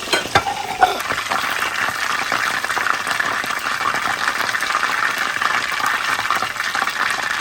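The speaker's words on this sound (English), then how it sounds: "I think this is good for this first fry because we're gonna fry it again." Chicken pieces for sweet and sour chicken sizzle steadily through their first fry in hot oil, a dense, even crackle filling the whole stretch with no talk over it.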